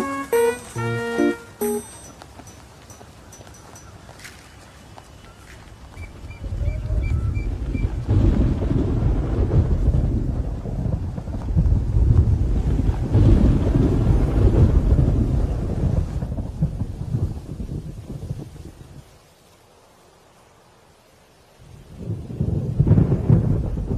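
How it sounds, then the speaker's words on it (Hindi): Rumbling thunder rolls across a stormy scene with rain and gusting wind buffeting the microphone, swelling in long loud waves, dropping briefly near the end, then surging again; a short musical phrase opens the sequence. "बारिश होने वाली है।"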